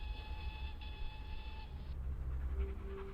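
A train crosses Batty Moss viaduct at Ribblehead, heard as a steady distant rumble with high tonal horn-like notes fading out partway through, then a lower hum.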